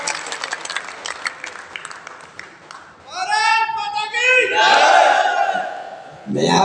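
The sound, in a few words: audience applauding to welcome the poet Dr. Hariom Panwar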